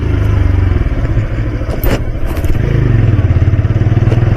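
A motorcycle ridden along a road, the engine note loud, steady and close throughout with a pulsing low rumble and a couple of brief clattering scrapes in the middle.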